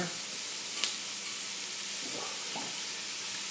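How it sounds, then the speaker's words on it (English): Loud, steady sizzle of a hot pan being deglazed with alcohol on a stove, a broad hiss with a few faint clinks and stirring sounds underneath. "And now we get to deglaze, which is the fun part."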